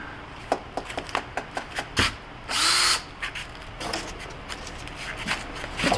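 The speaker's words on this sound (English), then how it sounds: "now we're screwing the top half in of the backing" Short bursts of a power drill driving screws into shiplap backing on a Sprinter van door, with a run of quick clicks and one longer, louder whirring burst, close by.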